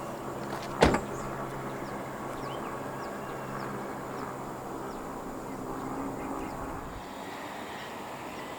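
Powered rear hatch of a 2022 Toyota Corolla Cross 1.8 Hybrid in motion, a steady low electric motor hum running throughout after a short sharp click near the start, with faint outdoor ambience behind it.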